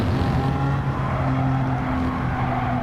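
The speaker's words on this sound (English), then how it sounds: "Power down on the straight now, down the hill and into the next 2 fast right-handers." A BMW M Performance race car in Gran Turismo 7 roars at full power down a straight, a loud continuous engine drone with steady harmonics and a slight pitch shift, no talk.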